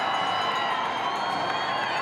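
A large crowd along the National Mall in Washington cheers steadily during an inaugural parade, a dense continuous roar of voices heard from amid the crowd.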